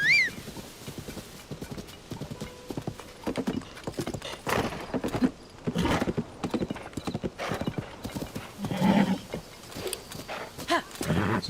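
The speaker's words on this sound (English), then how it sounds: "Alright, Horsey, let's yip somewhere else." A horse gallops across open ground in Zelda: Tears of the Kingdom, its hooves beating in quick, uneven bursts with occasional neighs, while a player talks now and then over the game sound.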